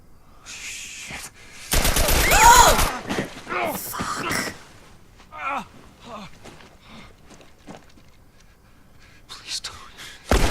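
Bursts of gunfire from The Last of Us video game, a dense rapid volley plus a few sharper shots scattered between quiet stretches, with people talking and whispering in between.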